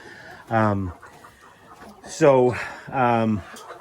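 Chickens clucking inside a chicken barn, three loud, close, harmonic calls spaced a second or so apart over a faint background murmur of other birds.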